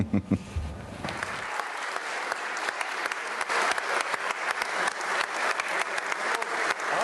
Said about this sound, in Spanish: Con este sonoro y cerrado aplauso, los cerca de 100 congresistas reconocieron el trabajo del presidente del Congreso, Efraín Cepeda Saravia.